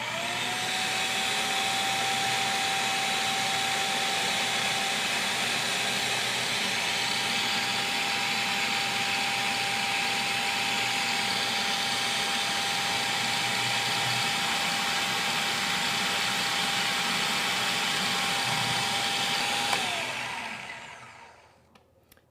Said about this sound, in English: we're going to add this pre-measured olive oil into the food processor as it's running